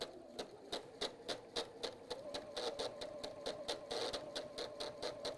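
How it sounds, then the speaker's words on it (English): Sewing machine stitching with a steady rapid rhythm and an abnormal vibrating rattle from the bobbin area below the needle, close and clear, with no talk. "Something's just vibrating when it shouldn't be."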